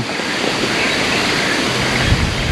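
Morning wind blowing across a grassy campsite at a national park unit in Chanthaburi, Thailand, a steady loud rushing roar that buffets the microphone, with no voices.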